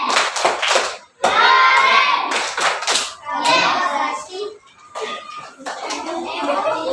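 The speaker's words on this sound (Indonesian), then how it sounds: "tepuk tangan untuk semuanya" Children in a classroom clap in short rhythmic bursts while joining in a loud group chant, with their voices mixed into the clapping and brief pauses between the phrases.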